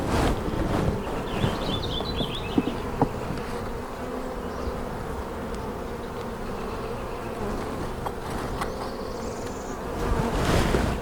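Honey bees buzz in an opened hive with brood frames in spring, a dense continuous drone close by, with occasional louder passes and light handling knocks.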